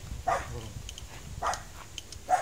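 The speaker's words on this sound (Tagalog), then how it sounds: "Nangangagat yung aso, Kuya Nuni" A tied-up dog that bites lets out three separate short barks, spaced about a second apart against quiet background noise, moderately near.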